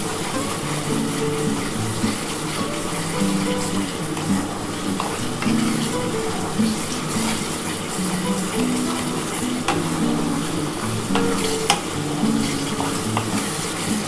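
Spice paste fries in a pan for a mutton and potato curry, giving a continuous, fairly loud sizzle with light scraping stir strokes scattered through it and no voices.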